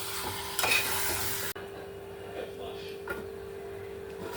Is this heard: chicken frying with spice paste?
yes